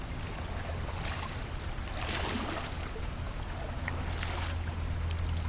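A canoe paddled down the Potomac River, with steady soft swishes and gurgles of water around the hull under a constant outdoor rush, no voices.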